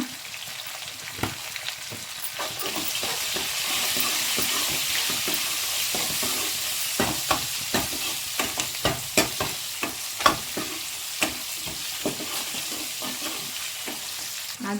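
Onion fries with turmeric for drumstick sambar in a pan, a steady sizzle with a spatula scraping and tapping, the strokes growing quicker and sharper toward the end.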